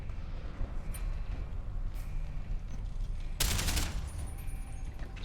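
Gunfire in Deus Ex: Human Revolution Director's Cut, a loud, brief burst of shots late in the passage over a low, constant hum of game ambience, with a few fainter pops earlier and no voices.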